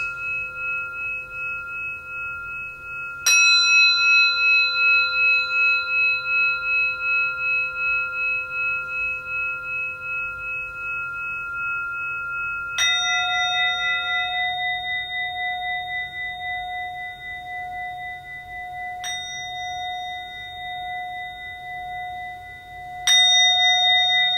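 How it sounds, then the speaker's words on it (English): Large gong hit with a large striker, four separate strikes ringing out with long sustained metallic tones that overlap and slowly decay, with no talking. "Now if you use a different striker, this is a large striker, you can get an even more powerful sound, so it really radiates."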